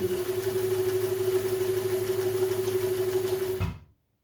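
A vintage Kenmore 540 sewing machine stitching, a steady close mechanical hum and rapid needle rhythm running evenly for nearly four seconds before stopping.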